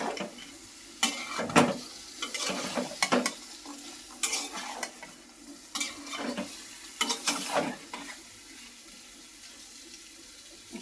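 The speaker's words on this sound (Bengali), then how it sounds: "আমি একসাথে দিয়ে দিলাম বেগুন, কাঁচামরিচ সিদ্ধ হয়ে যাবে একসাথে দিয়ে ভালোভাবে একটু নেড়ে চেড়ে দেবো" Eggplant and green chillies are stirred in a pan of curry with dried fish and jackfruit seeds, producing repeated loud scraping swishes and wet sizzling bursts over a low, steady simmer, close up.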